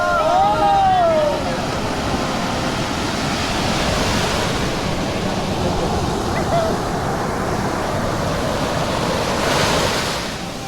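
Sea waves at Kaup beach near Udupi, Mangaluru, roll in as a steady, loud broadband wash with swelling surges, wind buffeting the microphone throughout.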